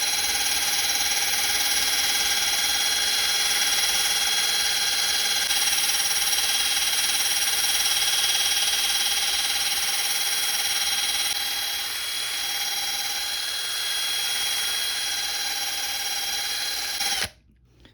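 Power drill fitted with a polishing pad buffing a 3D-printed part, a steady high-pitched whine running continuously and loud up close, easing slightly partway through before the motor stops abruptly at the end.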